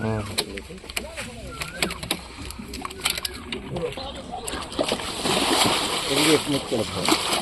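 About 280 kg of mrigal fish are released into a pond, splashing and splattering in the water while several people talk and call out nearby, with the splashing building louder toward the end.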